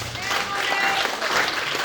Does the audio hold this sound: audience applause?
yes